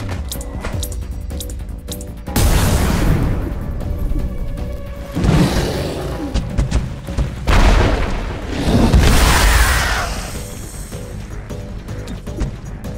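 Grenade explosions in a video game, one after another as a series of loud booming blasts with crashing impacts and whooshing debris, all close and dense across the whole stretch.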